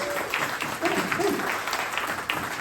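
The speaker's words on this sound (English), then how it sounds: "Huge round of applause for you guys." A comedy show audience at a fringe festival gives a round of applause, a thick, steady crowd clap heard at a distance with a few voices talking over it.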